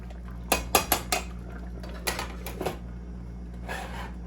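Red beans and rice being stirred in a pot, a few clanking spoon strikes against metal in two short clusters, close but fairly quiet over a low steady hum, with no speech.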